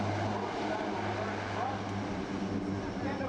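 Steady, loud droning of a four-engine C-130 turboprop aircraft with Allison T56 engines, its propeller hum holding low and even throughout with no breaks.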